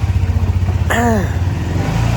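A motorcycle ridden through city streets on a commute to the office in Ahmedabad, with steady close engine drone and wind rumble, and a brief horn-like tone in the middle.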